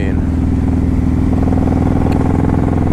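A Honda VTX 1800 motorcycle accelerating hard, its loud, steady engine drone climbing in pitch while someone talks over it throughout.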